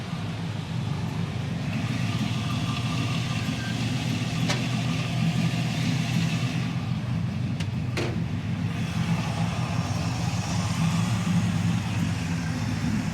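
A 350 V8 engine in a 1961 Chevrolet Bel Air idles steadily nearby, a continuous low, even rumble with a couple of brief clicks partway through.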